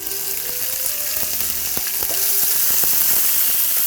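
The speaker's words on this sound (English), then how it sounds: "The next thing I'm going to add is chopped onions." Chopped onions and cumin seeds sizzle loudly in a hot pan for Indian chicken breyani, a steady close frying hiss with scattered pops and clicks of stirring utensils, no voices.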